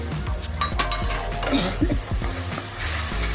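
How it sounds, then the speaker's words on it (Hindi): Tomato puree hitting a hot pan of fried ginger garlic paste for chhole, giving a loud sizzle and frying crackle with stirring scrapes and a few utensil clinks, close and steady with no talk. "अब हम ये टमाटो का प्यूरी डाल देते हैं।"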